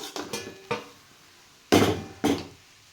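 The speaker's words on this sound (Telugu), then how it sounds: "స్టవ్ కట్టేసి ఇంకా ప్లేట్లో తీసుకుందామండి" Cluster bean biryani is scooped from a pot onto a plate with a metal spoon, producing several distinct close clinks and scrapes, two louder knocks near the end, with no talking.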